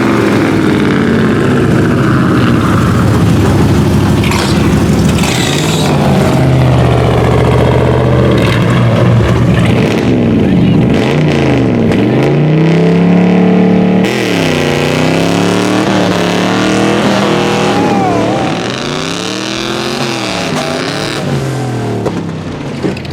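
Loud, continuous engine roar from 4x4 mud buggy cars racing, with repeated revving swells and pitch sweeps as throttles rise and fall, close and dominant throughout.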